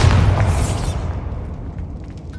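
A Bombarda blasting spell in Hogwarts Legacy goes off as a loud, close boom with a deep rumbling body that fades away over about two seconds, heard alone without voices.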